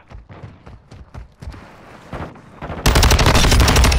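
Call of Duty: Modern Warfare II gunfire on the Shoot House map: scattered single shots and footsteps at first, then a loud, sustained automatic burst erupting at close range for the last second.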